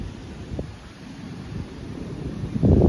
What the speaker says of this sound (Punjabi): ਪੂਰੀ ਯਾਰਾ ਹਨੇਰੀ ਚੱਲੀ ਆ